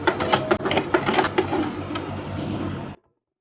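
A sewing machine runs a quick line of stitches through lining fabric ahead of pleating, close and steady with rapid rhythmic clatter for about three seconds before stopping abruptly.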